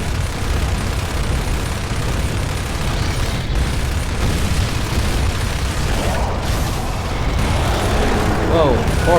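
Brumak guns and cannon fire in Gears of War 2 form a loud, continuous battle roar of booms and mechanical rumble throughout, with occasional bursts and faint voices near the end.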